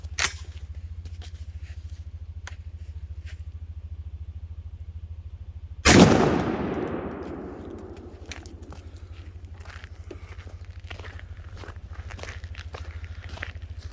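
A Winchester SX4 shotgun fires a Winchester Super X 3.5-inch No. 2 shell, 1 3/8 ounce, outdoors in a single loud blast with a rolling decay, set against a steady low hum and scattered small clicks.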